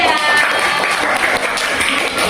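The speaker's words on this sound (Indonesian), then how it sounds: "Beri tepuk tangan untuk suku Padang." A class applauds in a short, dense burst of hand clapping that holds steady throughout, with faint voices mixed in beneath it.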